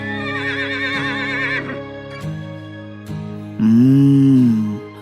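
A cartoon horse neighs loudly and close by, with a wavering whinny at the start, then a couple of shorter snorting calls, and a final strong, drawn-out whinny, all alone without talk.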